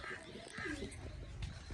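Pigeons coo softly on a small poultry farm, low murmuring calls repeating under a steady background hum, with faint bird chirps mixed in.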